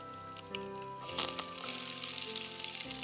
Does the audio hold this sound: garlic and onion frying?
yes